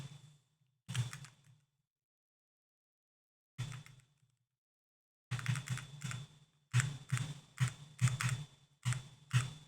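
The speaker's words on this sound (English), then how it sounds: "that's the sound of you scrolling" Quiet, close clicks and taps of scrolling on a computer: a few isolated taps separated by silence, then a quicker run of rhythmic clicks toward the end.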